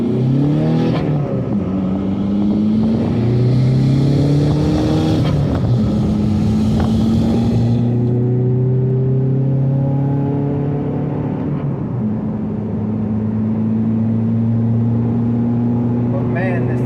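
Engine of a modified VW MK5 TDI diesel with an upgraded GTB2265 turbo, accelerating hard on fresh asphalt with a window open, rising steadily through the gears with clear turbo spool. A voice talks throughout.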